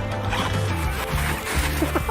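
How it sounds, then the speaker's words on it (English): A YKK watertight zipper runs along the pocket of a 30D Cordura bag, giving a short, close rasping pull of about two seconds with a few small clicks near the end. "we've added YKK watertight zippers on all the easy-to-access pockets"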